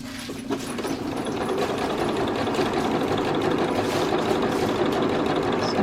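A sewing machine runs continuously while stitching gathering lines on a Butterick 5861 garment, a steady close whirring hum with a fast mechanical needle rhythm and no talking.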